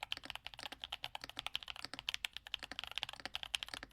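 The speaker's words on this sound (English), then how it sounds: "Does your keyboard sound anything like this Youngzee B75 Pro?" Rapid, steady clacking of a Youngzee B75 Pro 75% mechanical keyboard being typed on, crisp close-up keystrokes with no voices.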